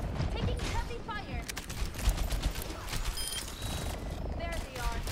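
Heavy gunfire rattles through an Overwatch match, a dense continuous barrage of shots with game effects layered over it, while players talk over the noise.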